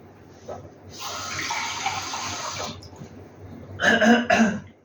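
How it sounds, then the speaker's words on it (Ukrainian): 300 grams of milk is tipped from a container into a mixing bowl as batter for Ukrainian crepes is started: a continuous, close splashing pour lasting nearly two seconds, followed by a couple of louder knocks. "показую вам 300 грам маю молока, виливаю сюди"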